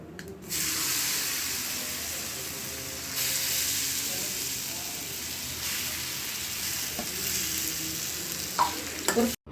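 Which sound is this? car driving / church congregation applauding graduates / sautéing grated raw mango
sautéing grated raw mango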